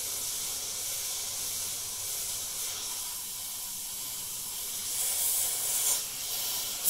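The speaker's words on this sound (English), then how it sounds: "So adding white to the airbrush, this is already pre-thinned" An airbrush sprays pre-thinned white paint in a continuous soft hiss that holds steady and swells slightly near the end, with no talking over it.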